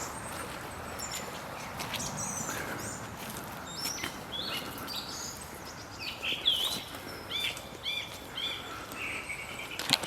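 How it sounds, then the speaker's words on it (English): Wild birds chirp and trill in scattered short calls around Terminus Pool woodland in Winsford, faint and fairly distant over a steady hiss of ambient outdoor background. "And you can hear the birds, there's wildlife around."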